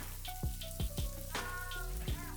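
Bay leaf, cloves, cardamom, cumin seeds and a piece of cinnamon sizzle in hot oil, a close bright crackle broken by several sharp pops and overlaid by sustained tonal notes.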